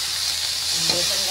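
Cluster beans go into a hot pan over a wood-fired chulha with turmeric, giving a steady hissing sizzle that swells briefly near the end, close and short.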